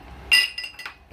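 A spoon briefly clinks against a bowl or glass while salt and MSG are stirred into water, a bright ringing tap followed by a few softer scrapes and knocks, close and quiet.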